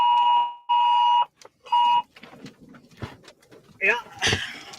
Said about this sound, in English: We are tornado warned. You heard the beep.